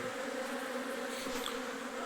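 A large swarm of honey bees buzzing steadily inside a big hive box, a dense, continuous drone that holds at an even level throughout, with no voices.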